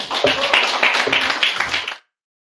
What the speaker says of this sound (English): Another round of applause for W.J. Lofton, please